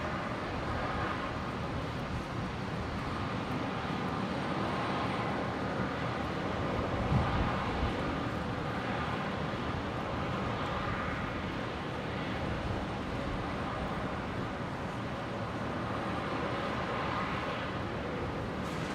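Velocity Boeing 737-800 jet passing behind the control tower at Brisbane International Airport, a steady, distant engine roar with broadband rumble and wind holding level throughout, no voices.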